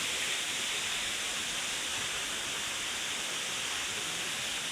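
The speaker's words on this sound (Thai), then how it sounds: "ตอนนี้ก็คือมาหอดน้ำตกเป็นที่เรียบร้อยแล้วทุกคนน้ำตกแกงยุยนะ" Kaeng Yui waterfall near Vang Vieng in Laos roars in a steady, loud, unbroken wash of rushing water with no pauses.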